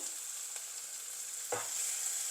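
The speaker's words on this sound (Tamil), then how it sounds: "வெங்காயம் நல்லா பொறிஞ்சிட்டுது" Onions frying in a pot for prawn biryani, a steady, soft hiss of sizzling oil with one brief stir or scrape partway through.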